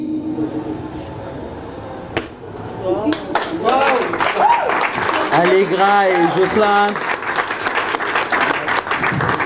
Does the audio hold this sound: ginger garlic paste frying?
no